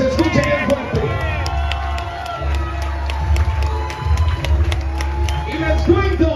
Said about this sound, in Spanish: estos dos grandes boxeadores se merecen una ovación